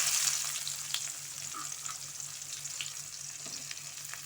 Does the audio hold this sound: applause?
no